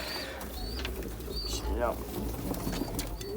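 A bird gives short calls and a soft cooing phrase while a person talks close by over a low background rumble.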